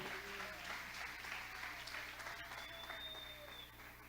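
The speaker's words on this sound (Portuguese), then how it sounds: "Aplauda Jesus" Congregation clapping at a New Year's Eve church service, a sustained broad patter of many hands with faint tonal music lines threading through the background.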